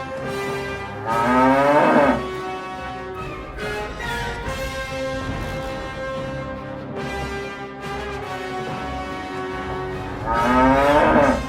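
A cow moos in long, drawn-out calls, loud and close, with a few separate bellows that swell and fade across the stretch, no other voices around.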